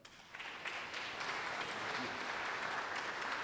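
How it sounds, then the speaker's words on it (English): An audience claps steadily at a Washington State University athletics Champions Center celebration, a broad sustained wash of applause heard from a slight distance. "Please, a round of applause."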